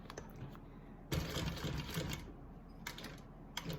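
A sewing machine restitching, a soft rapid whirring burst that starts, pauses and starts again in short runs, fairly faint and close, with no talking.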